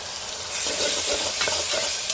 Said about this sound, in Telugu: ఒకేసారి అల్లం వెల్లుల్లి కొబ్బరి పేస్ట్ వేసుకొని ఫ్రై చేసేస్తాము కరేపాకు